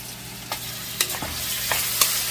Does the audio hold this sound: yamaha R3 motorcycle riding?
no